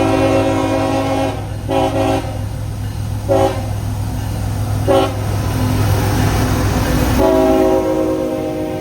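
Norfolk Southern freight train M560, with maintenance-of-way equipment up front, powering up off a siding while its horn blasts in several short and long toots over a steady rumbling diesel engine, close and loud.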